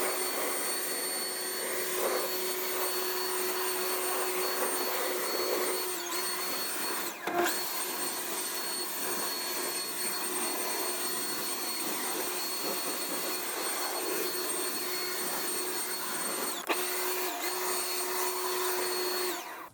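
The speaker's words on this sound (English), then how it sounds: "got a leaf blower here. Let's see if we can blow some of this stuff out here." A leaf blower blows debris out of a Ford F-350 truck, a loud, steady motorized whooshing roar at close range running continuously, with a couple of brief dips and bumps.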